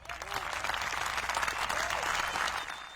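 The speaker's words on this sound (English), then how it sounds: "Some real clapping here this morning." A small studio audience on a live morning talk show claps for a prize winner, Frank's Car Wash: a fairly soft, steady patter of hands that swells briefly and then tapers off.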